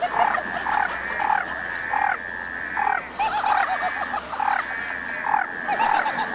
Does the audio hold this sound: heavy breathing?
no